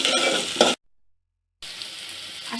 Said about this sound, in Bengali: তেজপাতা, গরম মশলা, এলাচ, গোলমরিচ, লং দিয়ে দিচ্ছি